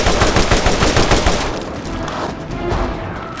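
Loud, rapid automatic gunfire from a weapon in the video game Borderlands Remastered. A dense burst of shots lasts about a second and a half, then fades into an echoing, rumbling tail.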